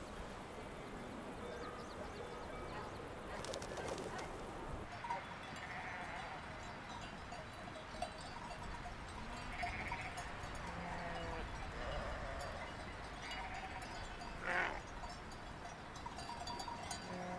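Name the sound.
sheep and cowbells on alpine pasture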